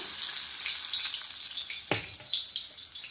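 Hot oil hits garlic murukku dough in a bowl with a soft, crackling sizzle, faint and close, broken by one sharp splashing burst midway.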